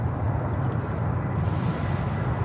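An Asiana Airlines Airbus A350 at Sydney Airport, a steady low jet engine roar heard from a distance, constant and smooth across the moment with no voices.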